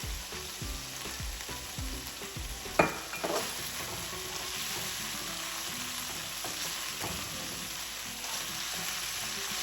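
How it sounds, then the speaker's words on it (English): Chicken frying with soy sauce sizzles steadily and close in a pan, with a sharp utensil clank near the start and occasional stirring scrapes over the continuous hiss; no speech. "Saute for a few seconds."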